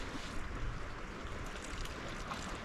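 Water gushes out of an opened pipe valve on a spring-fed off-grid cottage water system, a steady close rushing noise with no talk.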